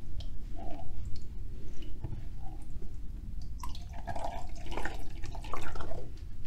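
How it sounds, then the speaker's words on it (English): Milk is poured into a bowl during home baking, giving a soft liquid splashing and trickling that rises mid-clip over steady low background hum, close by with no talk. "So I'm going to add in some milk."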